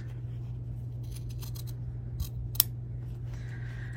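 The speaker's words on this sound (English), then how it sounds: "I can come through and snip right up to the tip of the triangle, both directions" Scissors snipping fabric up to the tip of a triangle in a sewing project, a few quiet crisp cuts spread over a faint steady hum, without talking.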